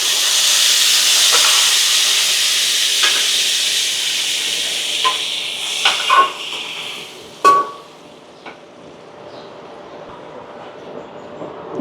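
Lentils are tipped into hot oil with panch phoron, setting off a loud, steady sizzling hiss that fades midway, with a few clinks and scrapes from the pan.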